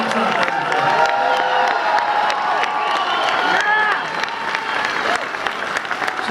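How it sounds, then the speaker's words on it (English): A crowd at a Donald Trump rally applauds and cheers continuously, a dense wash of clapping and shouting that thins slightly toward the end. "Cheer for Donald Trump"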